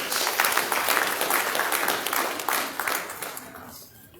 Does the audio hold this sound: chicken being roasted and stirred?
no